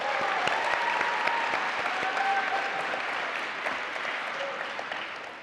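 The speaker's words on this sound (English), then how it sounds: "Can you give a round of applause for the senators that we just heard from?" Round of applause for student senate candidates at a student government election forum: sustained clapping from a room of people, even and fairly distant, gradually tapering off toward the end.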